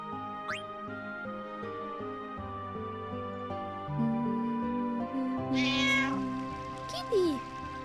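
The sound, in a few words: cats meowing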